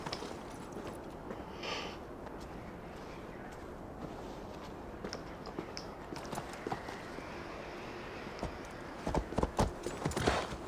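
Horse hooves clip-clop steadily at a walking pace in Assassin's Creed Valhalla, close and moderately loud, with ambient game sound around them and a few sharper hoof hits near the end.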